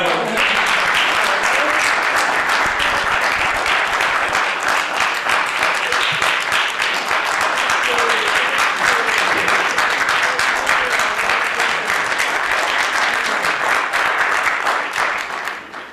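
An audience at a church gathering gives a doctor a long, loud round of applause, many hands clapping in a dense, continuous roar for about sixteen seconds before it tapers off at the end.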